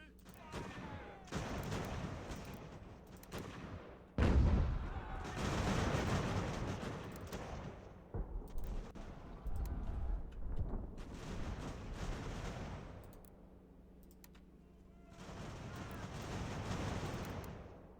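Cannon and musket fire in the strategy war game Ultimate General: American Revolution, with booming artillery blasts and crackling volleys in loud waves, mixed with battle noise and some talk.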